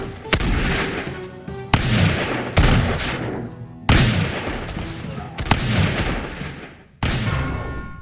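A game minigun that fires rocks lets off heavy booming bursts, about seven loud thumping blasts at irregular intervals, each with a rumbling tail, close and dominant.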